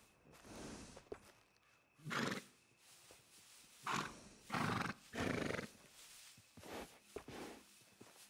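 A horse whinnies and snorts several times in loud bursts in Red Dead Redemption 2, separated by quieter breathy gaps and a faint background hum.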